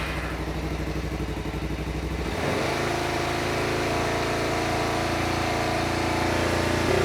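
Kawasaki KLE motorcycle with a charging fault: a starter cranks briefly, then the engine catches and runs with a steady, close, loud rumble that builds as the revs rise.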